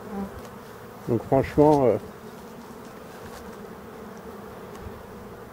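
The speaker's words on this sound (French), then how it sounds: "je vais ouvrir les ruches" Black honeybees drone steadily around opened hives in Brittany in September, a constant close hum throughout, with someone speaking briefly over it near the start.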